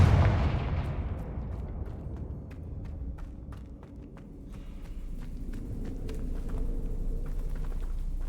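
A heavy Confringo blasting spell explosion in Hogwarts Legacy, opening with a loud booming burst that decays into a low rumble, followed by scattered sharp cracks and distant pops.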